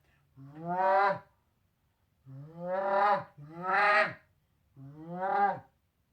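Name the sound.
goose call moan murmur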